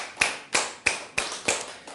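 Sharp claps at a steady rhythm ring out in a church sanctuary, six distinct loud strikes each followed by a short reverberant decay, with no talking over them.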